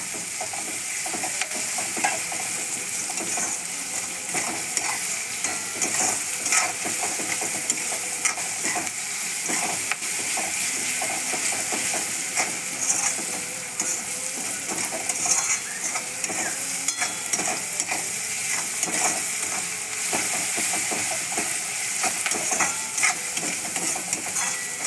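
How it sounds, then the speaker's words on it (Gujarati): Garlic, chili and ginger paste sautéing in hot oil for a vegetable rice dish, a steady bright sizzle and crackle with occasional stirring scrapes, close and continuous with no talk. "મરચાં આદુની પેસ્ટ છે એ આપણે એડ કરીશું. એને પણ તેલમાં થોડી વાર સાતળી લઈશું."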